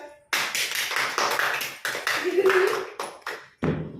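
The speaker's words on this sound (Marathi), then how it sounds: "टाळ्या वाजवा." Hands clap in a few sharp, ringing bursts spread across a short stretch during a playful follow-the-instructions game, close and loud, with voices mixed in between the claps.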